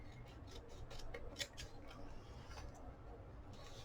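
Scissors snip through paper while a flour sack journal is being made, a run of quiet, quick cuts with one sharper snip partway through, close by and faint over a soft room hiss.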